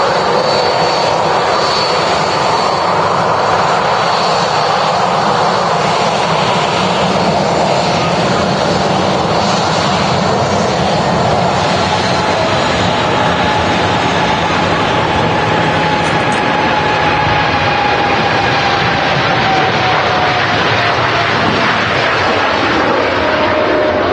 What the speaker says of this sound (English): Dreamliner's on the roll.